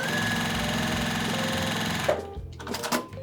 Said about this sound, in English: all I'm going to do is sew them in sets of 2 to make like half a triangle